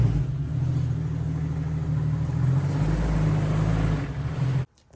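A Jeep Cherokee XJ drives into a garage with a steady low engine rumble close by. The rumble rises slightly, then cuts off abruptly near the end.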